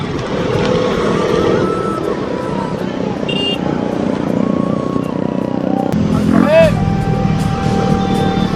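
Motorcycle engines roar continuously and loudly at an Independence Day bike rally on the road from Haldia to Kolaghat, with one engine revving and pitch sweeps as bikes pass close by, while people talk over the din.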